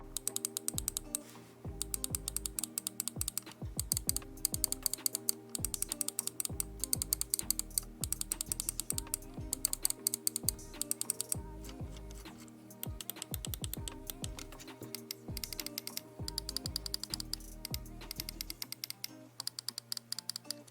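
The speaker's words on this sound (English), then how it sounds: "The left and right clicks also really stand out on this mouse, featuring next-gen golden micro IP54 switches." A gaming mouse's left and right buttons with golden micro IP54 switches clicking rapidly, crisp sharp ticks in quick irregular bursts, close and isolated.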